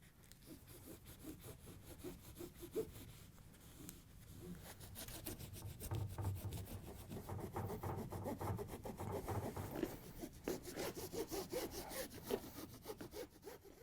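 Steady rasping scrape of old tape residue being worked off the edge of a glass cooktop, continuous rubbing strokes close up and moderately loud, with no talking.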